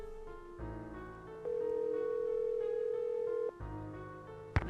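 Telephone tones from a phone in a Nancy Drew mystery game, a steady electronic tone holding for a couple of seconds between shorter tonal bursts, ending with a sharp click.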